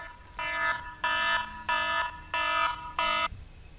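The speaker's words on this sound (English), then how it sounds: "I want to turn the alarm off" Five loud electronic alarm beeps from a small model aircraft after landing, in a steady rhythm, each about half a second long, with a faint background hum between them.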